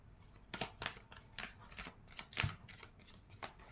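Tarot cards are shuffled by hand in a series of quick, crisp riffling bursts, close and fairly quiet, with short pauses between each pass.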